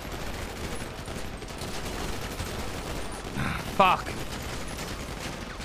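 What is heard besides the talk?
gunfire during ambush in video game GTA V roleplay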